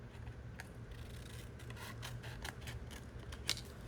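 Scissors trimming the edge of a glued paper craft tag in a quiet indoor crafting setting, giving a few short, soft snips and rubbing sounds over a low steady hum, with one sharper cut near the end.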